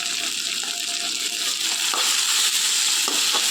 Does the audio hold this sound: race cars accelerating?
no